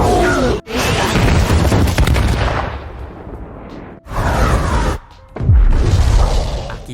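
A missile strikes in an Ultraman battle scene, setting off loud, broad blasts and crashes with rumbling debris that come in several bursts separated by brief gaps.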